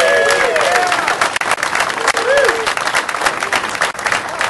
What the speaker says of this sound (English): one of the people we should give a big round of applause is Angie Quiroz with Barrio Santa Rita for this.